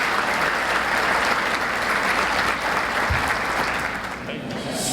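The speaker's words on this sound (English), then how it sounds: "So one last round of applause for our" Sustained, loud applause fills a crowded banquet hall at a county sports hall of fame induction dinner, steady clapping from the audience for several seconds before tapering slightly at the end.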